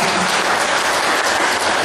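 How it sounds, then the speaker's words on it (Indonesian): Loud, dense clapping from an audience, a continuous wash of applause held at even volume, close and unbroken, without voices. "Tepuk tangan, serah."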